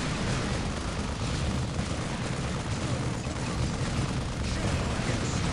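Melter guns firing at assault carriers in the strategy game Dawn of War, a dense, unbroken roar of gunfire and blasts that stays loud and even throughout.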